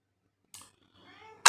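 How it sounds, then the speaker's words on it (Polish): A cat missing its owner after a month away meows for attention: one short close cry followed by a faint rising whine, ending in a sudden loud burst of noise. "kot się za mną stęsknił, nie było mnie miesiąc w domu, piszczy, domaga się pieszcza"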